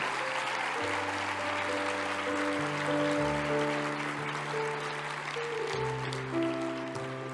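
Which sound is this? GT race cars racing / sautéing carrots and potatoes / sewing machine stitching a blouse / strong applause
strong applause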